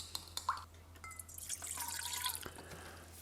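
Crumbled yeast, about a teaspoon, is stirred into water to dissolve it for baguette dough, making soft liquid clinks, drips and swishes close by with no talk.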